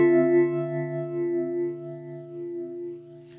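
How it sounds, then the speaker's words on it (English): An electric guitar run through a slowed phaser and tremolo holds a single sustained chord that swirls and pulses gently, fading slowly and heard alone. "with the phaser, I slow it down, I just back it off. I have my tremolo on too."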